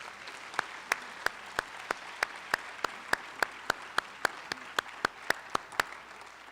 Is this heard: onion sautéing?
no